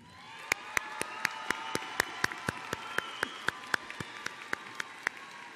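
Graduation ceremony audience at a 2022 high school commencement clapping steadily, with sharp individual claps standing out in a regular rhythm over a continuous wash of applause and scattered cheering, moderately distant.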